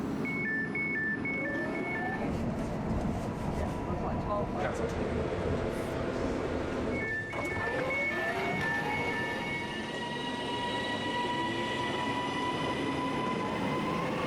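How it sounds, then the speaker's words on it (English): Train ride on the rail line toward Poulton-le-Fylde, with a steady rolling rumble, rail noise and a couple of brief tonal squeals or chimes, people talking over it throughout. "We're just going to get the next train from here to Poulton-le-Fylde."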